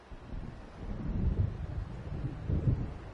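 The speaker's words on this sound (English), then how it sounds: "It seems there's a storm coming." Thunder and wind of an approaching storm in Alan Wake Remastered: a low, rolling rumble swells and gusts through a continuous windy roar, with no voices.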